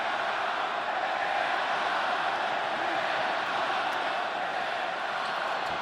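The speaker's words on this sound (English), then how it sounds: "Certainly a vociferous crowd here tonight" Wrestling arena crowd at Arena Mexico during a 14-man tag team match, a dense, steady roar of many voices cheering, sustained throughout at moderate loudness.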